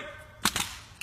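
A military honor guard fires a rifle volley at a veterans' funeral at a national cemetery, a sharp loud crack with a quick follow-up report and another distant pop, carrying outdoors with no voices.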